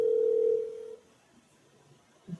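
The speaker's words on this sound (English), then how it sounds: "Hopefully this person answers the phone." Telephone ringback tone while waiting for a call to be answered, a single steady tone that cuts off after about a second, followed by faint room noise.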